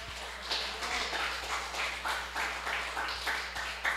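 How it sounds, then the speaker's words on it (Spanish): A church congregation claps hands together in a steady, rhythmic beat, loud and sustained, with regular pulses of many hands striking in time and no talk over it. "dale fuerte palmas al Señor"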